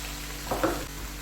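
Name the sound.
okra frying in pan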